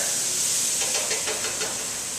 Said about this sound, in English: You're starting to get that nice sizzle